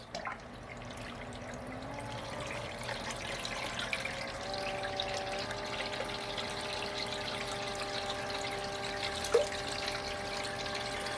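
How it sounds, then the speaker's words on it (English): Water runs steadily through a gold paydirt sluice, a continuous wash of flowing water with a pump-like hum and tonal whine, plus a brief clunk near the end. "So let's fire up this sluice."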